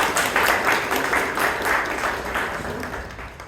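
A Toastmasters club audience in Bangalore applauds, a steady, dense patter of many hands clapping that holds throughout and eases slightly toward the end.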